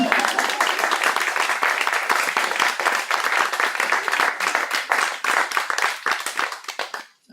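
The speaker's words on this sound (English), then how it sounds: "So a round of applause, please, for Christine." Audience at a poetry reading event applauds a poet, a continuous round of close, crisp clapping that stays strong before tapering off abruptly at the end.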